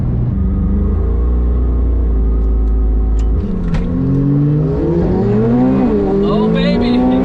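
A Porsche GT2RS and a McLaren 720S race side by side: loud, close engine roar with rising, shifting revs and steady rumble, while excited voices talk and cheer over the noise.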